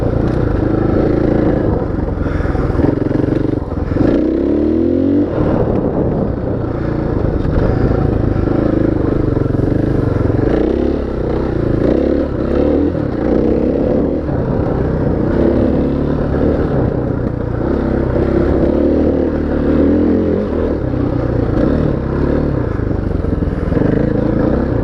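A motorcycle engine with its stock exhaust uncorked rumbles and clatters steadily up close during a ride. A thick, continuous low growl holds for the whole stretch with small surges and no talk.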